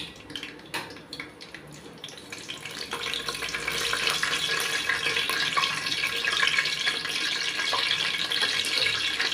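Whole cinnamon, cloves and cardamom drop into hot oil for a butter bean biryani, giving a close, steady sizzle that swells after a few seconds and holds loud and even, with no talk.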